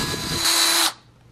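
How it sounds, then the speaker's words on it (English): A power drill whirs steadily as it bores into wood, its pitch rising briefly near the end before cutting off abruptly into quiet. "we're just gonna continue to drill into the second piece"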